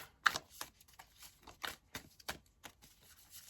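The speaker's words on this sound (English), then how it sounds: "see how I'm shuffling?" Tarot cards shuffled by hand during a reading, a series of soft close riffling and slapping bursts at an irregular pace, fairly quiet, with no talk over them.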